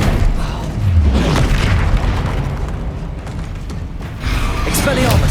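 In Hogwarts Legacy, spell blasts go off as heavy booms and bursts, overlapping continuous shouted voices and battle noise.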